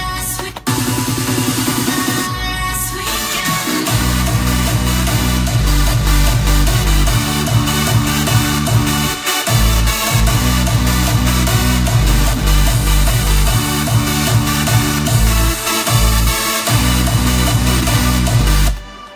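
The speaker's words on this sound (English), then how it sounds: "it sounds like the drop that I had done." A loud electronic dance drop with pounding kick drums, heavy bass and a bright synth lead, driving steadily with brief breaks in the beat.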